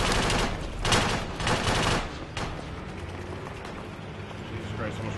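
Gunfire in the cooperative shooter game Project Reality during an attack on a village: bursts of rapid shots crack in the first two seconds, then fade into scattered distant firing, with players talking over the action.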